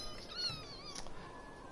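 A cat meowing close by, one drawn-out plaintive meow over a low background hum.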